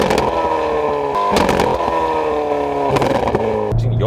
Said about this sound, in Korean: 이렇게 RPM이 올라가면은 뒤에서 차는 이제 팝콘이라고 해서 지금 벨로스터 N의 어떤 특징적인 부분인데